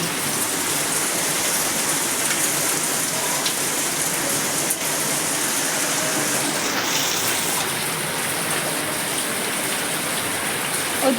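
Heavy storm rain pours steadily and loudly into a house, a dense continuous hiss of water with no break, heard close and on its own throughout.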